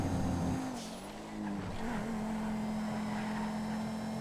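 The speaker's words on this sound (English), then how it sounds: "Felon GT, what a horrendous car." A Felon GT car in GTA V on FiveM, its engine holding a steady droning hum that dips and shifts briefly as if changing gear, then settles into a constant even note, fairly close with no talk.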